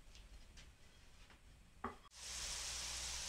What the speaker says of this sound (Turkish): Patateslerimi ilave ediyorum. Ve patateslerimi hafif kızartacağım.